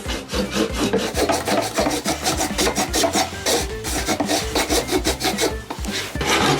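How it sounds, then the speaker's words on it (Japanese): Close-edge sawing during DIY toilet installation in an old Japanese house, a steady rapid rhythm of rasping wooden strokes, loud and near, continuous throughout with no talking. "ちょっと浮いちゃうのでギリギリで切ります"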